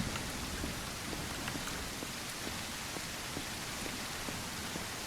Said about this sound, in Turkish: Yağmur yağıyor arkadaş. Yağmur yağıyor.